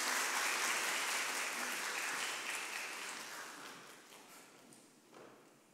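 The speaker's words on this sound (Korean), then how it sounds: "우리 박수로 우리 하나님께 영광을 올려드립니다" A church congregation applauds during a Sunday service after a family's special song, with dense clapping that starts fairly full and fades away over about six seconds.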